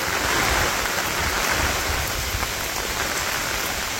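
Steady rain in a Bangladeshi village during the rainy season, a dense, loud hiss of drops striking surfaces close by, continuous with no voices.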